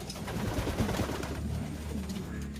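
Racing pigeons cooing nearby, soft repeated low throaty coos overlapping in a continuous murmur from several birds at dusk.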